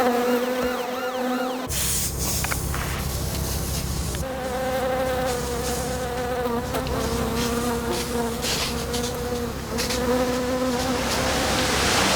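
A dense swarm of insects buzzes continuously, loud and close, with overlapping whines rising and falling and no voices.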